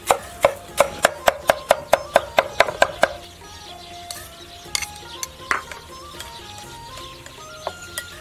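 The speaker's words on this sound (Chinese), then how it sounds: "切点洋葱碎" A knife chops onion on a cutting board in a steady run of about a dozen crisp, evenly spaced strikes, then gives way to scattered lighter clicks and clatter of kitchen work while snails are prepared.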